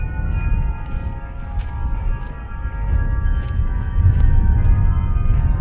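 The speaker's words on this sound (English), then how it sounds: "Pardon the wind." Wind buffets a microphone outdoors at Bok Tower Gardens among the orange groves of Lake Wales, Florida, making a continuous low rumble that rises slightly toward the end, with faint steady tones in the background.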